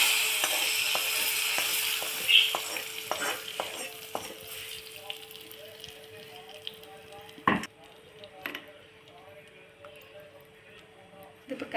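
Hot oil tempering with turmeric and chili powder sizzles and crackles as it is poured into a kingfish mappas curry, with a few sharp spoon taps and clinks that fade into a softer simmer.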